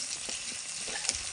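Capsicum and onions sizzle and fry in a pan for chili chicken, a steady close hiss of oil broken by soft scraping stir strokes.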